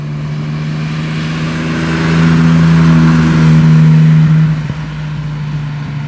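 A 1955 Jaguar XK140 DHC engine runs steadily at close range, its low idle hum swelling slightly in the middle as revs rise, then settling back to an even drone.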